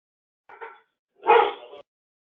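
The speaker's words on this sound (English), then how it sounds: "Somebody's got a dog. It sounds like." A dog barks twice in the background of an online meeting, a short softer yap followed by a louder, fuller bark, with silence between and around them.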